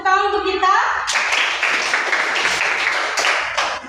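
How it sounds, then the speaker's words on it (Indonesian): A classroom group claps briefly after a spoken line, a dense burst of hand clapping lasting a few seconds. "tepuk tangan untuk kita"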